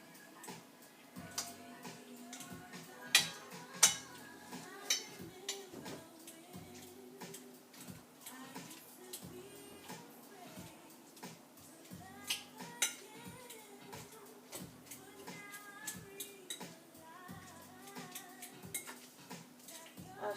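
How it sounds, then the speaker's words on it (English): A fork mashes avocado for guacamole in a bowl, making soft, irregular clicks and scrapes against the dish, quiet and close with no talking. "all we do is literally mash it with a fork"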